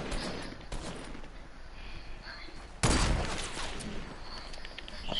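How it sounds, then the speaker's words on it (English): Gunfire in a squads shooter video game, a burst of rapid shots with a sudden loud blast near the middle, close and dense, with no speech over it. "I'm gonna shoot that kid."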